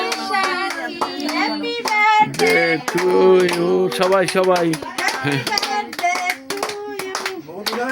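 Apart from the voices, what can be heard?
people clapping at a birthday celebration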